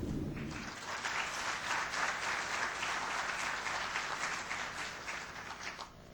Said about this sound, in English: He's heard your applause